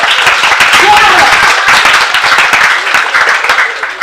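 Audience at a stand-up comedy show bursting into loud, sustained applause and cheering, dense clapping filling the room for the full few seconds with no one speaking.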